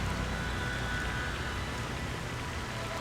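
Steady rain falling in the Splinter Cell Pandora Tomorrow video game, a continuous even hiss of drops on surfaces that holds at a constant level throughout with no voices.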